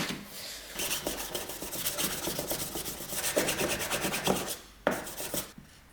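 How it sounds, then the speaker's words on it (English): Wet sanding a 3D print with a 400 grit sanding block: rhythmic back-and-forth rasping strokes, close and steady, with a brief pause before a final run of strokes. "I've got my sanding block again, and I'm using 400 grit, and we're going to use water again"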